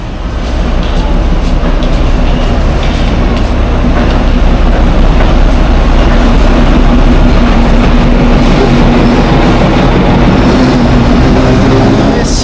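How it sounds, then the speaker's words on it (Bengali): Darjeeling toy train pulling into a station, a steady loud rumble of rail cars and engine building across the whole stretch with no talk. "আরেকটু হলে কিন্তু এন্ট্রিটা মিস করে দিতাম টয় ট্রেনের"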